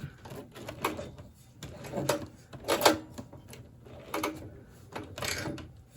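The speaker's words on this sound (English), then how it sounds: "Now then, let's back stitch a little bit." A Cobra leather sewing machine runs back stitches through an elephant skin gun holster, giving bursts of close mechanical clatter and whirring with short pauses between them, fairly faint overall.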